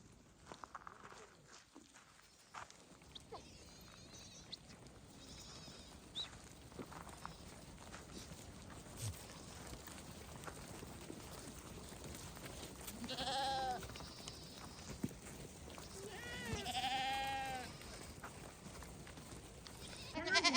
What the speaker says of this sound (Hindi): यहाँ पे भी बहुत सारी भेड़ है, यू कैन सी लाइन से खड़ी है